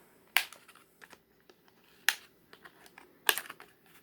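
Packaging ties on a boxed Transformers Decepticon toy are snipped in three sharp, close cuts about a second or more apart, with faint rustling and small clicks in between and no talking.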